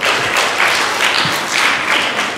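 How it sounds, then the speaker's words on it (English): An audience claps for a student presenter at a class presentation, a dense, steady patter of many hands lasting a couple of seconds with a few louder single claps standing out. "Let's clap for her."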